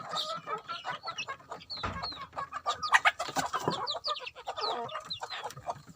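Chickens on a rural hill-tribe farm clucking and calling in a busy, overlapping chorus close by, short repeated squawks and chatters from several birds with no pause.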